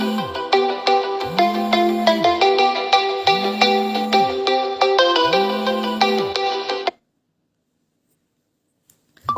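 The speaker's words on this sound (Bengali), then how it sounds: "সরি, বারবার একটা কল আসছে," A phone ringtone plays loudly and close as a repeating melodic tune with pulsing low tones for about seven seconds, then cuts off into silence.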